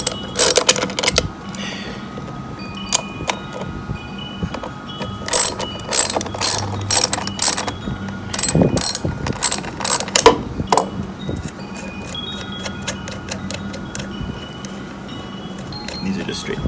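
A ratchet wrench loosens bolts on a Honda EU7000is generator during maintenance, giving close, rapid bursts of clicking pawl sounds that start and stop repeatedly, with metallic clinks and handling noises in between.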